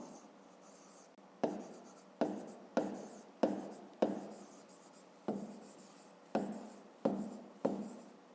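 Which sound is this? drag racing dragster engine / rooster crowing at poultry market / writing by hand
writing by hand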